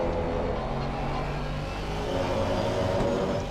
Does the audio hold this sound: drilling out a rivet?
no